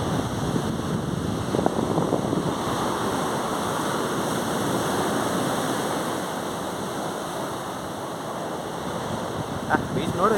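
Surf rolling in at Honey Beach, Uttara Kannada: a continuous, fairly loud wash of waves mixed with wind, with faint voices now and then in the background.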